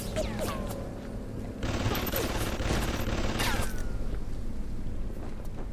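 Sustained turret gunfire in BioShock Remastered, a dense rattling stream of shots that swells louder after the first couple of seconds, layered over steady game ambience with no talking.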